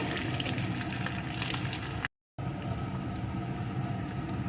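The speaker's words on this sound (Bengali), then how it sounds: "এখন এই তেলের ভিতরে ফোড়নে দিয়ে দেব গোটা গরম মশলা এখন এই মশলাটা একটু ভেজে নেব" Whole garam masala frying in oil that was already used to fry prawns, while making a dahi prawn curry: a dense, steady sizzle and crackle close by, broken by one brief moment of silence.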